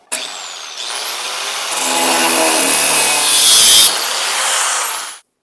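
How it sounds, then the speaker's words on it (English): A power tool spools up with a rising whine and cuts through the old sheet-metal passenger floorboard of a Triumph TR4, a loud harsh grinding rasp that builds, holds for several seconds, then winds down. "I'm going to start now and just cut this existing one out here"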